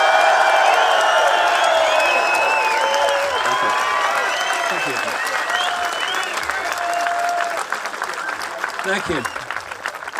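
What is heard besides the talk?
audience applause and cheering for speaker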